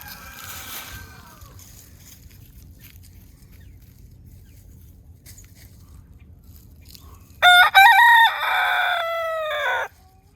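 A farm rooster crows loudly and close near the end, one long drawn-out cock-a-doodle-doo answering another bird, after a stretch of quiet background hum and faint distant clucking.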